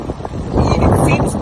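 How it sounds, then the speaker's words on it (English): Wind gusting across an open outdoor spot in winter, a steady low roar of buffeting microphone noise that swells midway and stays loud throughout, with no other clear sounds. "It seems windy because it is."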